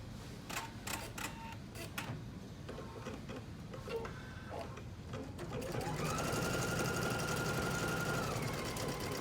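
Embroidery machine stitching an in-the-hoop envelope bag, a steady rapid mechanical chatter of the needle running continuously and close, growing louder and smoother partway through.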